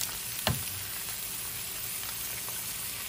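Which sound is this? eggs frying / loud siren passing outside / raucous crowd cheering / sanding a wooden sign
eggs frying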